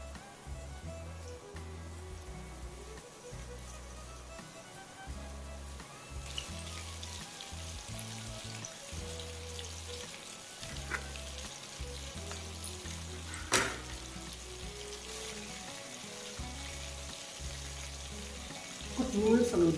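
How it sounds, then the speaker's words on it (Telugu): Shanghai chicken pieces deep fry in hot oil, a steady soft sizzle and bubbling that runs throughout with occasional stirring clatter and a few louder knocks. "డీప్ ఫ్రై చేసుకున్నాం."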